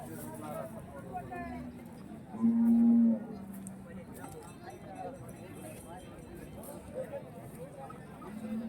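A bull at a cattle market lets out a loud, low moo in the middle, with people talking throughout and outdoor background noise around them.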